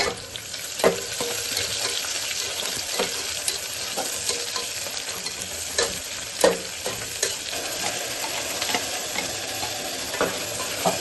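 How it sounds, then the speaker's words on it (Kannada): Long-sliced onions frying in ghee for a vegetable biryani, a constant close sizzle with repeated spatula scrapes and taps against the pan at an uneven rhythm, no voices. "ಉದ್ದಕ್ಕೆ ಕಟ್ ಮಾಡ್ಕೊಂಡಿರೋ ಈರುಳ್ಳಿ ಹಾಕೊಂಡು ಕೆಂಪಿಗೆ ಹುರ್ಕೊಳ್ಳೋಣ"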